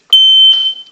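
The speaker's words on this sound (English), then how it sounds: "I'm gonna test all the smoke detectors." Home smoke detector being tested, giving one loud, steady high-pitched electronic beep that holds for about half a second before breaking into a rougher, fading tone.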